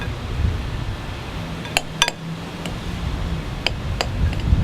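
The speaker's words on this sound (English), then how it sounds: "we'll just take our spoon and we'll mix this together here" A spoon mixing ingredients in a bowl, giving a handful of sharp, scattered clinks and taps against the bowl over a low, quiet background.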